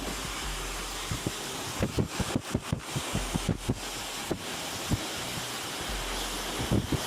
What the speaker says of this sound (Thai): เราใช้ลมเย็นย้อนขึ้นมานะครับ